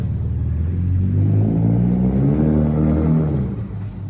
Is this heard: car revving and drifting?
yes